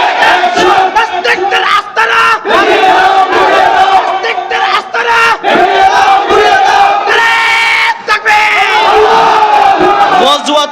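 A large crowd at a religious sermon gathering roars Allahu Akbar in unison in answer to a takbir call, loud, sustained massed voices filling the whole stretch with brief dips between shouts.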